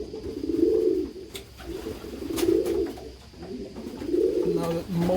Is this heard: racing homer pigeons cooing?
yes